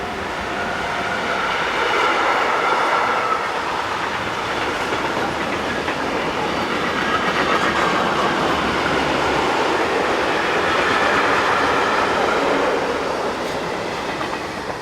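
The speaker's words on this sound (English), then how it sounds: "it is another mixed train from Gremberg" A mixed freight train hauled by electric locomotive 185-167 rolls past steadily, its wagons clattering in a continuous rhythmic clickety-clack over the rails, loud and sustained with no one talking.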